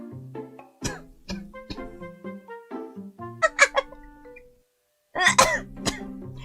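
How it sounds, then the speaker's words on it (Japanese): A girl coughs and clears her throat repeatedly in short, close bursts with pauses between, ending with a louder cluster of coughs after a brief silence. "めちゃめちゃ咳入った"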